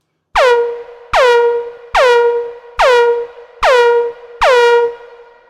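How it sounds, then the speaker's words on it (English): An EWI wind-controller synth patch plays six separate sustained notes in a row, each starting with a bright harmonic attack and a quick upward-then-settling pitch arc, loud and close with short gaps between them. "As I begin to dial in the amount of this third envelope, you can hear how there's arc to the pitch right at the beginning of the note."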